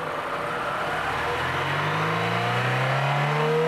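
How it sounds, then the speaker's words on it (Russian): A car engine on test revs smoothly up to about 3000 rpm, its tone rising steadily and growing slightly louder over a few seconds, running alone without talk. "Плавно поднимаем обороты до 3000."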